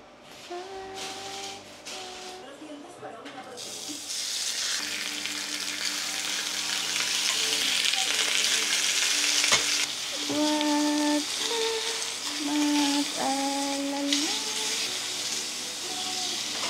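Chicken breast frying in a home kitchen pan gives a steady, loud sizzle and hiss that builds over time, with clinks and stirring on top and a few brief tonal beeps.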